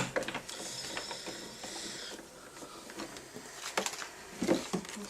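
A Kaszazz Bellish Ezy-Press die cutting machine is cranked by hand, giving faint irregular clicking and ratcheting mechanical sounds with soft rolling rumble, quiet and close.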